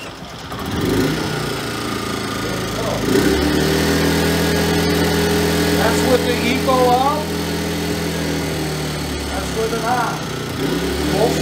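A CFMOTO i30 3000-watt inverter generator being converted from gas to propane runs steadily, a loud continuous engine drone with a constant pitch, while people talk over it.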